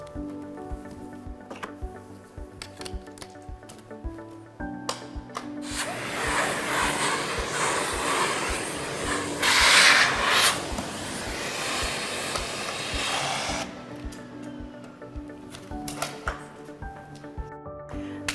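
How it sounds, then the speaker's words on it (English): A Miele Blizzard CX1 bagless vacuum cleaner runs with its upholstery brush, a steady broadband whoosh that swells louder for about eight seconds in the middle, with faint rattles and ticks, no talking. "With the upholstery brush, you can easily remove lint and hair from furniture."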